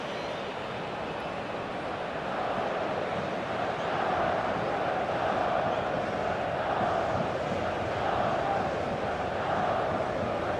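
A capacity stadium crowd in eFootball PES 2021 gives off a broad, steady roar that swells slightly after the first couple of seconds and holds constant, with no distinct voices above it.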